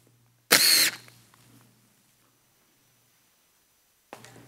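A battery-powered screwdriver drives a screw in one short, loud high-pitched whir of about half a second, followed by a faint trailing rattle, near silence, and then a brief noise burst at the end.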